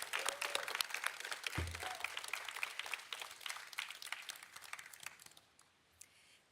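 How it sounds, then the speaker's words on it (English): Audience applause at a USCIS naturalization ceremony, a dense steady patter of many hands clapping throughout, loud at first and tapering off near the end. "Let's have a round of applause for all these countries."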